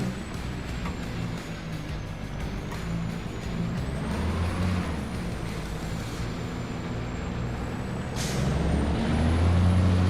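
Heavy truck in Farming Simulator 25 on Judith Plains, Montana, with a deep steady engine drone, hissing air-brake releases and a rising tonal whine, growing louder toward the end.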